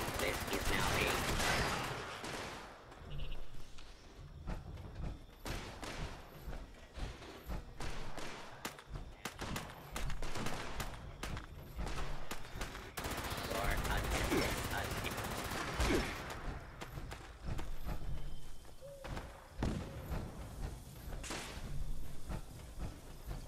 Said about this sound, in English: Who's that in there shooting at me?